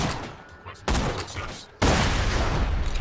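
Gunfire in the video game Borderlands 2 comes as loud, dense bursts of shots, with a sharp volley starting partway in and continuing to the end, while a voice speaks briefly over the noise.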